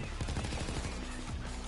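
Dense, rapid gunfire from snipers in the heist shooter Payday 2, a continuous loud barrage of overlapping shots with no pauses across the short burst.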